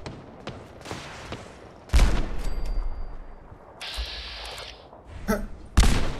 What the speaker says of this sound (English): Oh, it's a rocket launcher.